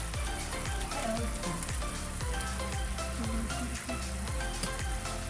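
Steady bubbling and sizzling of tomato-based sauce simmering with spices in a pan on the stove for duck kaldereta, continuous and close, with no talking.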